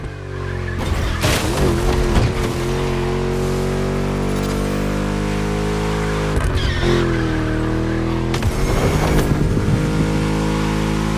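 A Ford Mustang V8 racing in The Crew Motorfest, a loud, deep, sustained engine drone near and steady, with pitch shifts at gear changes and bursts of tire squeal and skidding.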